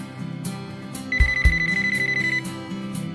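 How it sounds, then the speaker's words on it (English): A cordless phone handset rings in a quick electronic warble pattern, loud and close, repeating in short regular bursts with no voices. "you'll never have to scramble to find a ringing cordless handset"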